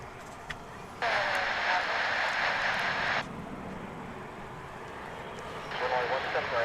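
A Volaris Airbus A320 departing Dallas/Fort Worth for Guadalajara makes a low, continuous engine rumble underneath bursts of nearby talking.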